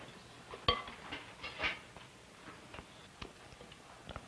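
Flour and milk are stirred in a mixing bowl, the utensil clinking and tapping against the sides in irregular light knocks, fairly quiet and close.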